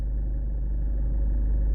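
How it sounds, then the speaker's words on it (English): A car engine idles while warming up, a steady low rumble that holds constant and close throughout with no revving or speech. "I'm sitting just warming the engine up"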